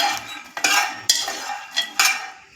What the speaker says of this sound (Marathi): त्यासाठी शेंगदाणे भाजून घ्यायचे आहेत